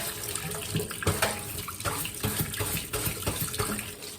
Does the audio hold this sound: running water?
yes